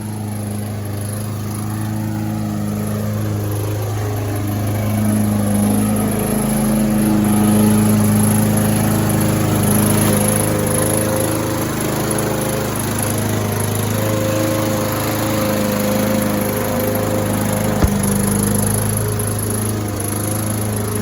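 A Honda HRX 537 walk-behind lawn mower runs steadily in wet grass, a loud continuous engine drone with slight swells in intensity throughout.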